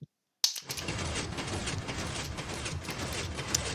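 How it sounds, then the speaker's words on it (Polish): Machine mechanism running in Minecraft, a steady dense clatter of clicks and ticks that starts abruptly after a brief silence and continues at even loudness throughout. "Mamy zbudowaną maszynę."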